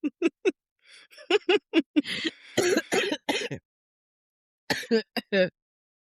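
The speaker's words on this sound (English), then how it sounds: "She's in a coughing fit." A woman coughs and clears her throat in a string of short, sharp bursts, then pauses before a few more coughs near the end.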